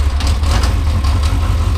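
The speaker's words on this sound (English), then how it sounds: "we're now going to try and start the motorbike single-handed" A Yamaha XJ900F motorbike engine idles with a loud, steady, low rumble heard up close and alone.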